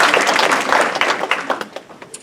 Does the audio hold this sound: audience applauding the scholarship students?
yes